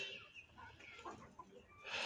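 Adler chickens kept at a home poultry business cluck faintly in a busy, noisy background, soft scattered clucks blending with farmyard ambience.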